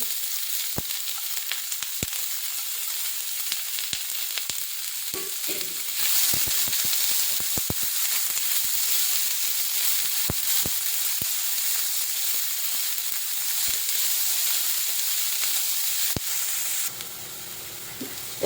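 Chopped medium-sized onion fries in a pan with a steady, bright sizzle throughout, punctuated by sharp clicks and scrapes of a spatula, close up with no talk.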